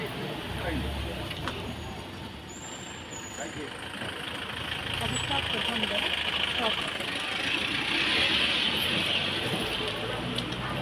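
A vehicle engine idles steadily with a low rumble throughout, while voices and street noise mix in around it.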